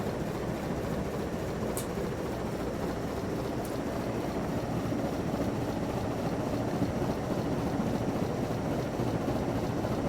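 Emerson Longnose antique ceiling fan, a reverse-pitched clockwise-rotating model, spinning at roughly 200 RPM with a steady, continuous broadband whoosh and low hum, close and even, with no talking.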